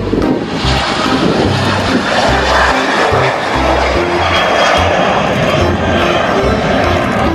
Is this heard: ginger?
no